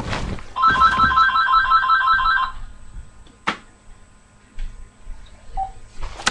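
A telephone rings with a rapid warbling electronic trill for about two seconds, loud and close, followed by quieter room sounds and a few clicks.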